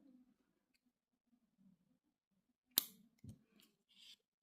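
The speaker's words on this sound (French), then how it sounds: "Donc là, on coupe le fil." Scissors snip yarn on a crocheted fish with a single sharp cut, then a few faint clicks and soft handling noises in an otherwise quiet room.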